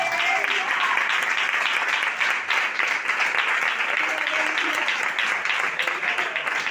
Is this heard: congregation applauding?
yes